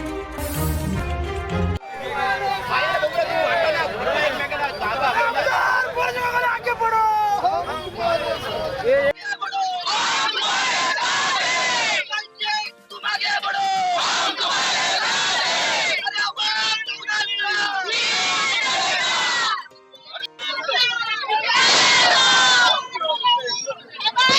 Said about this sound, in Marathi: विधानसभा अध्यक्षांच्या निकालानंतर महाडमध्ये शिवसैनिकांचा जल्लोष